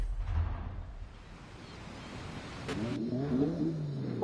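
Car engine revving and accelerating in the racing video game MLK Rivals, a rising harmonic whine that builds near the end over a steady broadband engine roar, moderately loud and close.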